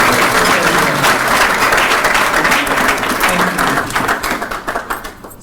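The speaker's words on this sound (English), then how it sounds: "Please give another round of applause" An audience at a Jamhuri Day celebration in Minnesota applauds in a dense, steady wash of clapping that holds for several seconds, then thins into scattered individual claps as it fades out.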